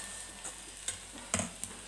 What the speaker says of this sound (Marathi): इथं हे मसाले मी व्यवस्थित परतून घेतले.